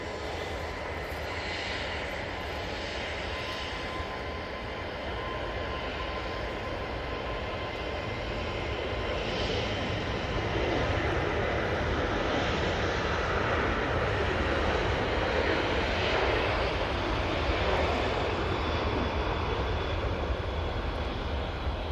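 Airliner taking off from a Manchester Airport runway, heard as a sustained broad jet roar with steady rumble that holds loud and even throughout, without talk.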